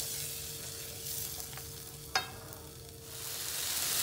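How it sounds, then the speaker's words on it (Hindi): Spice paste for a restaurant-style mattar paneer gravy cooks in oil with a soft, steady sizzle and a brief stir click partway through. "अब हम इस पेस्ट को अच्छे से पकाएंगे, जब तक ये तेल इससे अलग ना हो जाए"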